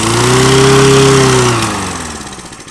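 A small lawn mower engine tuned for go-karting roars loudly up close, holding a strong steady pitch before revving down and sputtering into a rough, pulsing idle.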